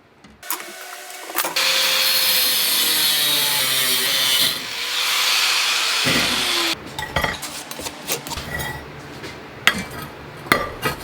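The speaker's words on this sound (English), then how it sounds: "now I'm just going to cut out that grate" Metal cutting on a 5 by 5 inch steel grate for a homemade firebox camp stove, a loud sustained grinding hiss for several seconds followed by scattered clinks and clatter of metal parts.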